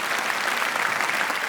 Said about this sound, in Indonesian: Tepuk tangannya lebih meriah lagi hadirin sekalian